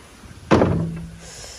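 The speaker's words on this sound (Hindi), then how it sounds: "दरवाजा बंद कर।" A door slams shut indoors on a rainy day, a single sharp impact with a short ringing tail, fairly close and loud against soft background noise.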